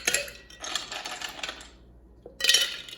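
Ice stirred in a cocktail glass, bursts of clinking and rattling with a short pause before a final louder flurry.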